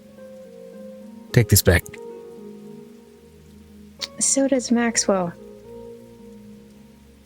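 Steady rain falls as a soft, even background patter through a tabletop fantasy role-playing session, with two brief bursts of talk rising over it.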